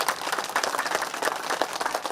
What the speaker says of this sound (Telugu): వచ్చిన వారందరికీ ఒకసారి గట్టిగా క్లాప్స్ కొద్దాం